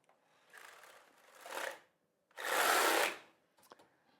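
A knitting machine carriage sweeps across the needle bed for a zigzag cast-on row while knitting socks, giving three loud mechanical rasping passes with short pauses between them and a few small clicks at the end.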